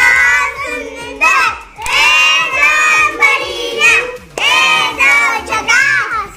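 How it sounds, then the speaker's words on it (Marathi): A group of schoolchildren clap and cheer loudly in bursts in a classroom, their high voices rising and falling together over several seconds. "वाजवा आता टाळ्या जोरात"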